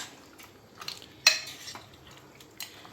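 Crushed goat head masala stirred in a pan, a spoon clinking against metal with one sharp scrape in the middle and a few softer stirs around it, close and fairly quiet.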